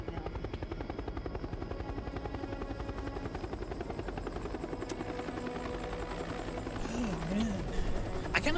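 Helicopter in Resident Evil: Operation Raccoon City, a steady rhythmic rotor thump under a continuous engine whine, moderately loud, with a brief voice near the end.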